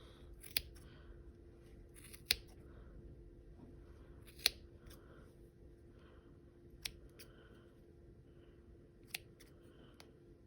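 Scissors snip through yarn while a pompom is trimmed, giving a handful of sharp, separate clicks spaced a second or two apart over a quiet room background.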